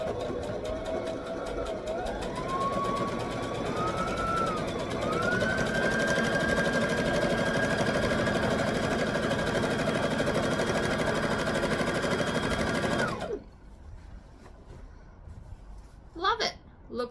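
A sewing machine stitching along a wrap skirt seam, a loud, steady motor whir that speeds up over the first few seconds, holds at a constant pitch, then stops abruptly near thirteen seconds, followed by quieter handling sounds.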